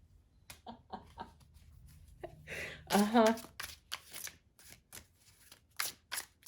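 A short, close riffle of cards being shuffled bursts out briefly between spoken phrases, then gives way to quieter handling sounds.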